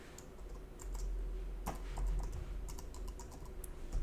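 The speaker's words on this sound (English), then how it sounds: "I'm just typing in my email address." Someone typing an email address on a computer keyboard, a quick irregular run of close, crisp key clicks over a low steady room hum, with no talking.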